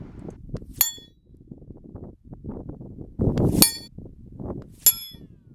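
Three sharp metallic clangs of EDgun Leshiy 2 air rifle pellets striking a steel target at 100 yards, spaced about two seconds apart, each ringing briefly over a low rumble of wind and outdoor background noise.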